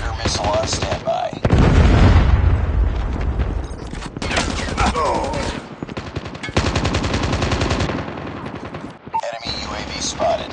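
A Predator missile strike in a Call of Duty ranked match arrives amid loud, continuous machine-gun fire and heavy booms, with bursts of shooting overlapping a deep blast. Game voices call out over the chaos.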